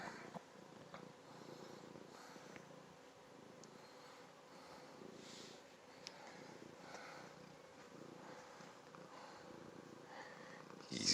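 A cat purrs softly and steadily in close range, a low continuous rumbling throb in quiet surroundings with no talking.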